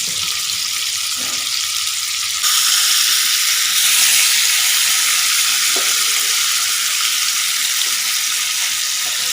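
Jalebi fish (tilapia) sizzles in hot oil in a pan, a steady loud crackling hiss that swells and stays constant throughout, close and alone without talk.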